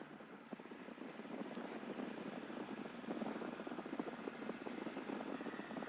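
Light aircraft piston engine running up at about 2,000 RPM during a pre-flight mag check, a steady, continuous droning hum with a slightly fluttering texture, close and moderately loud, no talk over it.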